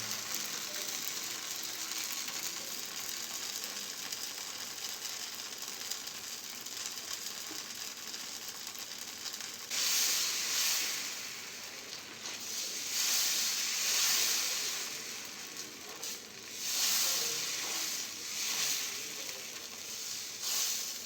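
Dosa batter sizzles on a new dosa tawa as a steady frying hiss, which swells louder and brighter after about ten seconds when more batter spreads across the hot plate; no voices.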